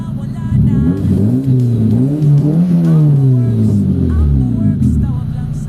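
A car engine under repair after running poorly revs hard toward about 7,000 RPM, a loud nearby rising and falling roar with one main surge and smaller blips, no talk over it.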